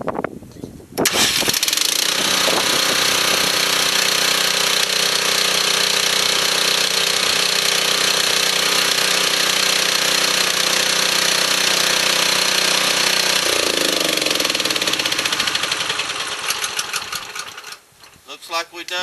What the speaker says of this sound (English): we're going to fire it up and see if we did a good job